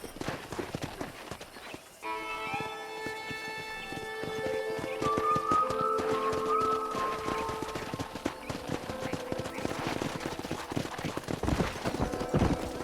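Horses' hooves clatter in a busy, continuous rhythm while a horse whinnies loudly, with layered game music and effects running underneath, from the video game Red Dead Redemption.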